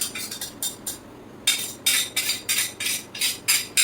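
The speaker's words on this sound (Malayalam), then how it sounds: "ഇനി നന്നായിട്ട് മിക്സ് ചെയ്യണം എന്നിട്ട് ഈ അരച്ച പഴം ഇതിലേക്ക് ഇട്ട് അതുകൂടെ മിക്സ് ചെയ്യണം" Batter with ground banana stirred in a bowl, about a dozen steady, fairly loud scraping and slapping strokes in an even rhythm after a short pause, with no voices.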